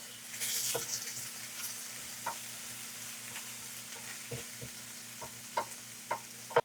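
Onion frying in a pan over high heat gives a faint, steady sizzle with a low hum beneath, broken by scattered soft clicks and taps of stirring.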